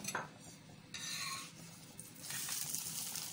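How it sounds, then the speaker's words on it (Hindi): A paratha sizzles on a hot griddle after being flipped to its other side, giving a close, soft frying hiss with light scraping and rubbing of a utensil, rising and falling in patches, with no voices. "पराठे को एक तरफ से सेक लिया है, अब पलट के दूसरी तरफ से सेक रहे हैं हम"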